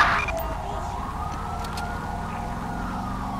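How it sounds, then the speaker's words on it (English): An ambulance siren in the video game Grand Theft Auto V wails steadily under engine rumble, fairly loud and continuous throughout. "Get an ambulance out here."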